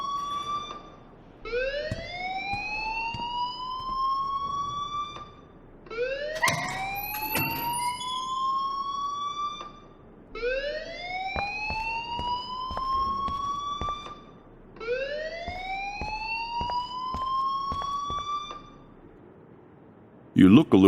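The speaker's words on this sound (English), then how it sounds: "please turn off that alarm since that's your job" An alarm in the Life is Strange game wails in repeated rising sweeps, each lasting a few seconds with short pauses between, loud and insistent, with a few clicks and knocks around it.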